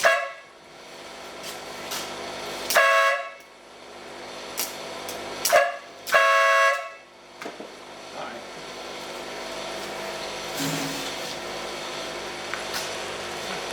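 A vehicle approaching a movable roadblock sounds its horn in three loud, tonal blasts, one short and two close together, over a steady wash of traffic and road noise.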